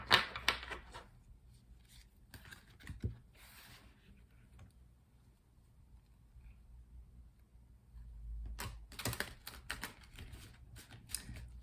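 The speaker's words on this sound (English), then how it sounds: "Let's continue and do some shuffling and pull 4 tarot cards for the day." Tarot cards being shuffled at close range in short bursts of riffling and flicking, separated by a quiet pause before a longer final burst.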